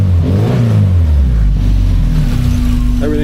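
The engine of a 1982 VW Westfalia revs loudly close by, rising and falling in pitch through a few throttle blips before settling into a steady idle, with no talking.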